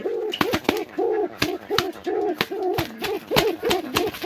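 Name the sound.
pigeons cooing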